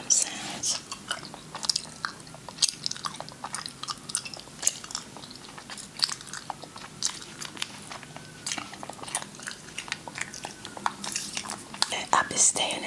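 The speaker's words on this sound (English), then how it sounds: "I hope that you are enjoying the chewing gum sounds." Chewing gum ASMR, close wet mouth clicks and smacks repeating steadily through the whole stretch, with soft whispery breaths between chews.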